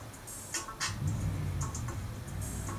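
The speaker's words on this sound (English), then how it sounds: "so if you hear the cars and shit, I can do nothing about that." Car traffic passing in the background outdoors, a low steady engine rumble with a couple of brief higher hisses, heard faintly behind the scene.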